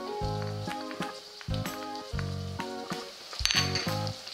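Garlic cloves and onion sizzle steadily in a hot pan, a close, continuous crackling hiss with brief stirring accents, heard beneath background music.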